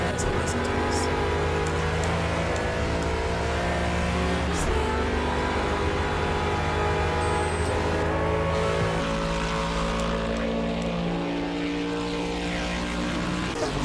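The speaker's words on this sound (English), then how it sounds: "Let's listen to that engine for some advice" An Aston Martin engine in the racing game Project Cars revs up and down through rising and falling tones, a loud continuous drone throughout.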